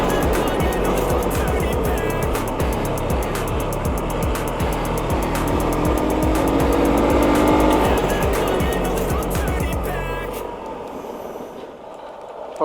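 Hero Xpulse 200 motorcycle riding off-road: a loud, steady engine drone with rapid rhythmic pulsing runs close throughout, then eases and fades near the end.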